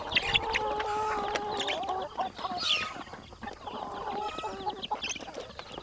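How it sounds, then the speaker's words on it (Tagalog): A flock of chickens on a farm clucks and squawks continuously at close range, overlapping calls and occasional sharper cries. "marami tayong mga manok dito"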